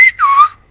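Whistled Silbo Gomero speech from La Gomera rendering the word 'buenos': a short, near, loud whistle with a brief break, then a pitch that dips and rises before fading, heard alone.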